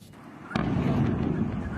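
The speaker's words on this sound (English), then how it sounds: "Explosions can be heard in this amateur footage" A sudden low boom from a distant explosion at an oil facility, followed by a sustained rumbling roar that lingers and swells.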